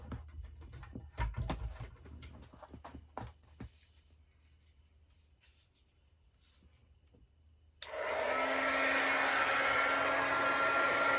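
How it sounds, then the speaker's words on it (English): A heat tool melts silver embossing powder on a Stampin' Up! Frozen Edges snowflake card; after scattered light handling noises, a steady loud blowing whir switches on abruptly and runs continuously to the end. "And then I'm going to heat that up with my heat tool."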